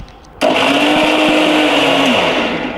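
A mixer grinder whirs on abruptly and runs loudly and steadily for a couple of seconds, blending two eggs for bread roast, its motor pitch drifting slightly with no voices.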